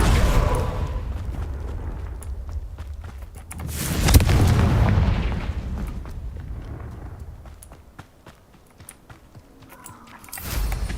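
Confringo fire spell in the video game Hogwarts Legacy, a single loud, deep explosive blast midway with a rumbling decay, set among softer movement and ambient game sounds.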